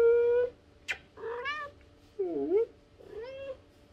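A small cat meows several times up close, with high, drawn-out cries separated by short pauses in a quiet room.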